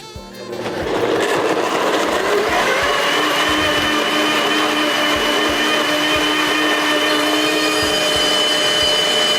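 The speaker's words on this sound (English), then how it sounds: "onto a blender we go" A blender motor whirs steadily and loudly while pulverizing chicken chili ingredients, starting with a brief spin-up and then running continuously at a high, even pitch.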